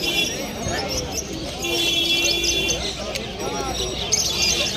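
Pigeons cooing and fluttering at a busy bird market, with a noisy background and people talking throughout.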